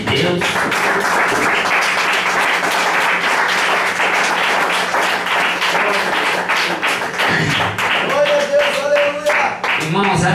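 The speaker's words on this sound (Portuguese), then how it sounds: "Vamos dar uma salva de palmas para o Espírito Santo de Deus." A church congregation at a night prayer vigil claps in loud, continuous applause, with rhythmic hand taps and thumps mixed in and voices underneath throughout.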